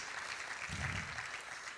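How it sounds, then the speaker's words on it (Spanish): A church congregation applauds during a sermon, a soft, distant wash of many hands clapping that swells briefly in the middle and stays faint throughout. "Dele un aplauso al Señor en esta hora"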